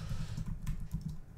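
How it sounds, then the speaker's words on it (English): Keys clatter on a computer keyboard close to the microphone, with quick soft clicks running steadily over a low background hum. "I'm typing around the microphone"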